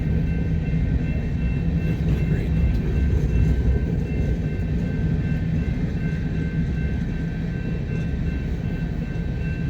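A long freight manifest train with many empty cars rolls steadily past nearby, a continuous loud rumble of wheels and cars with a faint steady whine, no talk.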